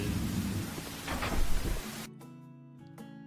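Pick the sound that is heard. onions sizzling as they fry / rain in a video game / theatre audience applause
rain in a video game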